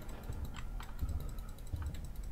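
Computer clicks while playing the horror game Fredbear & Friends: A Twisted Awakening come as a few quiet, scattered taps over a steady low background hum.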